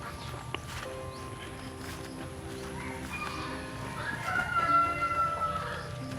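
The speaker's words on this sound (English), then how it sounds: "These are our native chickens pen." Native chickens in a pen cluck, with a rooster crowing in a drawn-out call that rises midway, set against a quiet farmyard background.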